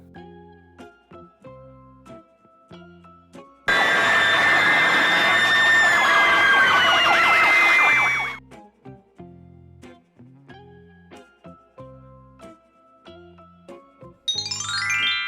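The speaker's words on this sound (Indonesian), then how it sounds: "Mobil pemadam kebakaran, fire truck." A fire truck siren wails loudly for several seconds in a rising and falling tone. It breaks into a stretch of bouncy, plinking children's music that plays before and after it.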